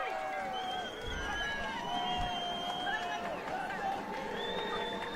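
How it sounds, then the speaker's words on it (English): High school football crowd cheering for Windsor against Skyline, a broad roar with whistles and shouts, fairly faint and distant under a commentator's voice. "The crowd is going crazy for Windsor. Lots of noise."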